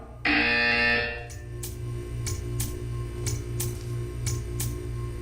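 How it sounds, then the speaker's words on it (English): A loud, steady electronic buzzer in the video game Portals blares for about a second, then cuts off, leaving faint rhythmic ticking over a low hum. "You will hear a buzzer. When you hear the buzzer, stare at the art."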